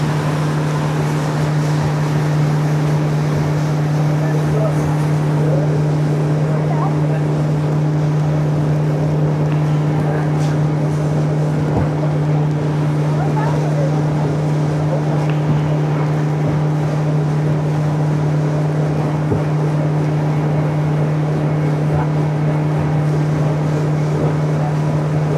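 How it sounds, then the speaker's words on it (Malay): A cruise boat on the Terengganu river drones steadily with a strong engine hum, its hull slapping through waves while wind buffets the microphone, continuous and loud throughout. "Bagi tengok belakang dia langgar ombak."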